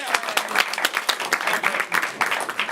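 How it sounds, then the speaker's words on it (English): An audience at a live game show event claps for itself, a lively, uneven round of hands with distinct individual claps standing out, close by and fairly loud, with no talking over it. "Clap for yourselves, everyone."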